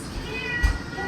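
A house cat gives a short meow indoors, a brief low burst against quiet room noise.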